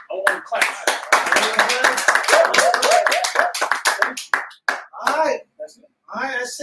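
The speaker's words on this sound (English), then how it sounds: "I want to clap." Hands clap steadily and loudly for several seconds at the close of an interview, then taper off into scattered claps with brief pauses.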